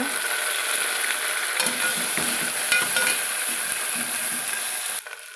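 Chopped tomato and green chillies frying in a pan, a continuous close sizzle with scraping stirs and occasional utensil clinks against the pan, ending abruptly.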